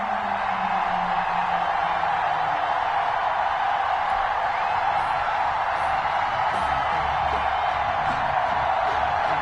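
A home stadium crowd in an EA Sports NFL game on PS4 roars steadily as the Miami Dolphins prepare to face the Los Angeles Rams, a dense, continuous wash of cheering at constant loudness.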